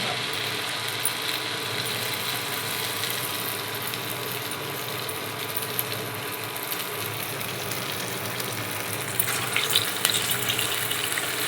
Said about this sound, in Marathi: किती छान फ्राय होते बघू शकता